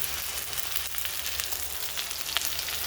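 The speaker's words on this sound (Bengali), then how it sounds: "দেখো নেনুয়াগুলো দিয়ে দিচ্ছি" Ridge gourd frying in a pan of oil after the potatoes, giving a steady, close sizzle with soft crackles and no voices.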